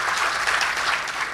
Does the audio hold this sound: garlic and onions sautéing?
no